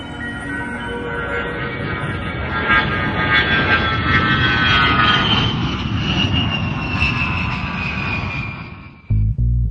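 An Ilyushin Il-62 jet airliner roars loudly with a whining engine tone that slowly fades over several seconds, then cuts off abruptly near the end.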